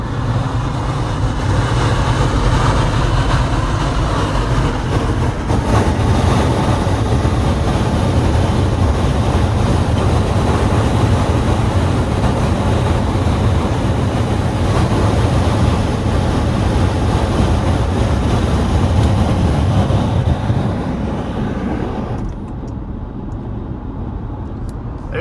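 Loud, steady wind and road roar inside a moving car with a cheap roof basket mounted on top and the moonroof open. It continues unbroken for about twenty seconds before dropping noticeably near the end.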